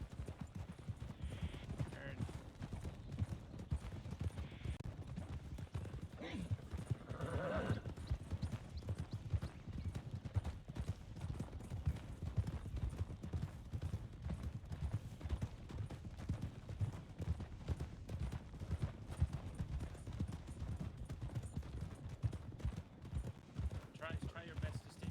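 Horse hooves canter in the Red Dead RP video game, a quiet, rhythmic clip-clop that runs steadily under ongoing talk, with faint gunfire far off.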